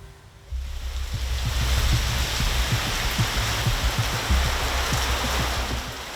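Water surging through the Manggarai floodgate in Jakarta, a loud continuous rushing roar with churning low thumps, starting abruptly after half a second and staying steady to the end without talk.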